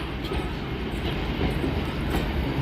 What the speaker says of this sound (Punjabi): ਲਓ ਜੀ ਟ੍ਰੇਨ ਆ ਗਈ ਆਪਣੀ